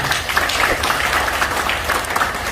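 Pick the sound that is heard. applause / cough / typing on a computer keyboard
applause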